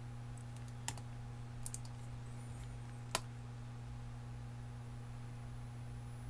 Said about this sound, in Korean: 오른쪽 마우스 버튼 눌러서 generate.